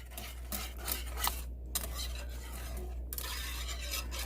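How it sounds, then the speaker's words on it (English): A whisk scrapes and stirs milk gravy in a pan with quick, repeated metallic strokes against the bottom, steady and close, over a constant low hum. "Whisk it up."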